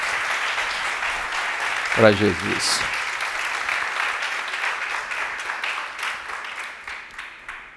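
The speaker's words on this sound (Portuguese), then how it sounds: "Dê para Jesus uma salva de palmas." A church congregation claps for Jesus during a service, sustained loud applause that keeps going for several seconds while a preacher briefly speaks over it.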